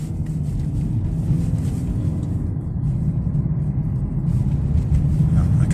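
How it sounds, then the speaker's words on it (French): Peugeot 508 under hard acceleration on a cold, icy day, a steady low engine rumble that builds slightly, heard close from inside with wind noise and a voice talking over it. "Alors, ici on peut faire une accélération franche."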